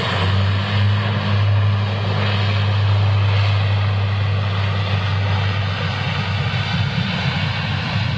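A Pilatus PC-12 single-engine propeller aircraft at Manchester Airport drones continuously with a low steady hum and broad engine roar, loud and fairly close throughout, with no voices over it.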